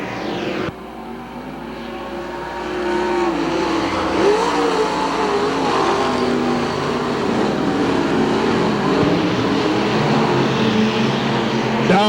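Race cars roar around Hamilton County Speedway in a 1993 Winston 50 event, a loud, sustained engine drone that rises as the field returns to green-flag racing, with voices faintly present.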